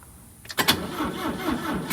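A 1978 Fiat Spider engine, sitting for 30 years, cranks briefly and weakly on a low battery, then sputters into a rough, uneven running rumble.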